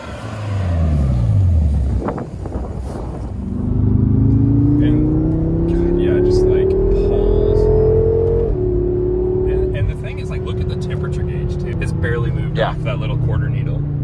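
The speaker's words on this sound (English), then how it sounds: "It sounds like a jet coming and then awesome European V8 sound going." A 2014 BMW M5 Competition's V8 engine, partly synthetic sound, revs up with a rising, throaty roar that climbs steadily in pitch, heard close with a person talking over it.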